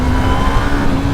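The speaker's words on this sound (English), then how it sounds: "Alright, let's have another little rev." A Yamaha MT03 motorcycle engine holds a steady, loud mid-pitched drone close by, with a sustained tone and no audible voices.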